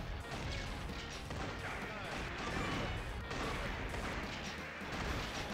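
Shotgun blasts fire in the Metal Slug Anthology video game, a dense stream of loud gunfire and crash-like bursts packed together over busy game sound effects.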